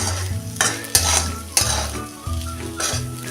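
Sautéing with chili powder in a pan for sabudana khichdi, a spatula stirring and scraping in repeated strokes over a steady close sizzle.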